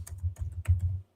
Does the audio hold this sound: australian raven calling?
no